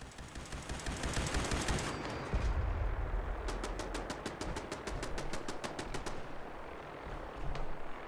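Automated turrets in the video game Fallout 76 fire at enemies in sustained rapid bursts, a steady rattling stream of close gunfire running throughout, later settling into evenly spaced repeated shots.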